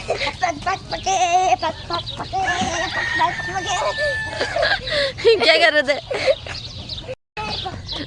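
A hen clucks and squawks while someone tries to feed it at a mini zoo, with sharp close calls that come through repeated talk from people nearby.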